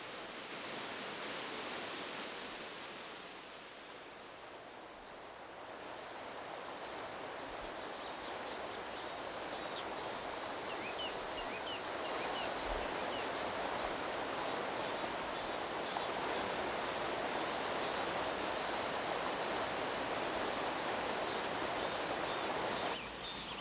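A Korean waterfall roars with steady, broadband rushing water, loud and continuous. The pour thickens a little after the first few seconds and stays constant with no voices.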